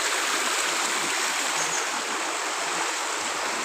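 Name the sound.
small river stream flowing in Shillong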